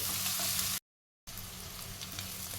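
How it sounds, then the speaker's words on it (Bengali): Onions fry in hot oil in a pan, a close, steady crackling sizzle that drops out briefly for a moment before resuming. "পেঁয়াজটা দেখো প্রায় ভাজা হয়ে এসছে।"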